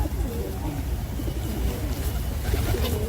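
Pigeons being fed coo and flutter nearby in a busy, low murmur, with steady background noise throughout.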